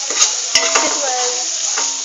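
Onions frying with coriander and jeera powder, stirred in a pan: a bright constant sizzle with a few quick metallic clinks and scrapes of the spoon early on, close and fairly loud.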